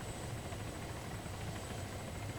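A helicopter in the video game Wasteland landing, a loud steady rotor and engine drone with a constant whine, filling the whole clip with no talk.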